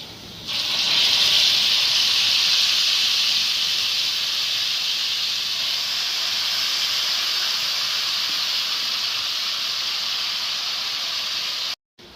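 Mustard greens for Punjabi sarson ka saag hit a hot pan with crushed red chilli, giving a loud, steady sizzling hiss that holds evenly for about eleven seconds before cutting off abruptly.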